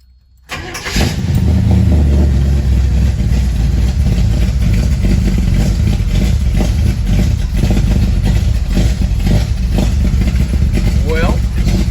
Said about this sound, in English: going to give it about 4 or 5 pumps on the accelerator and then turn her over